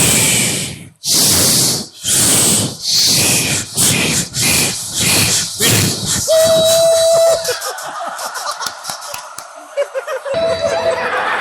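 A voice imitates a train, puffing out rhythmic chugging bursts that quicken, then switching to drawn-out whistle-like hoots; loud and close.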